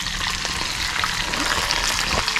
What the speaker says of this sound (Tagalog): Prito na tayo mga idol.